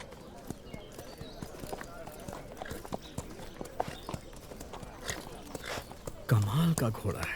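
Horse hooves clip-clop in a steady, close rhythm of sharp strikes throughout the scene in a historical drama, with voices faintly beneath.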